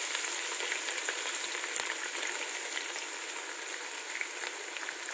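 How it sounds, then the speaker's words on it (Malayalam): Sliced onions fry in hot oil for Thalassery mutton biriyani, a steady, close, dense sizzle that carries on evenly throughout with faint crackles and no talking. "ഇനി നമുക്ക് സവാള ഇട്ട് കൊടുക്കാം. സവാള ഒരു മൂന്ന് പ്രാവശ്യം ഇട്ടിട്ട് വറുത്ത് പോരേണ്ടത് കേട്ടോ നമുക്ക്."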